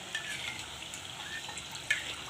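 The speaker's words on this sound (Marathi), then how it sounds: "थोड्या वेळ अगदी मीडियम फ्लेमवर छान तळल्या जातात" Chakli frying in oil over a medium flame, a steady soft sizzle that holds evenly throughout with a couple of faint clicks and no talking.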